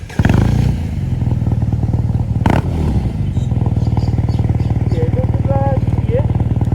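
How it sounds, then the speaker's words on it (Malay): A BMW R nineT Pure on its stock exhaust rumbles steadily nearby at a low idle-to-cruise throb, with a sharp clack partway through and a faint whine near the end, a Ducati Hypermotard on stock exhaust riding alongside. "kita orang nak buat comparison bunyi exhaust stock R90 dengan bunyi exhaust stock Ducati Hypermotard"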